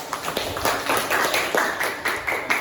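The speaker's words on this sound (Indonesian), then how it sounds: "Tepuk tangan dulu." A small group of students claps in quick, uneven bursts for a couple of seconds, fairly close, in a classroom.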